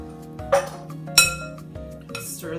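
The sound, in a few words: stirring chopped spinach into artichoke dip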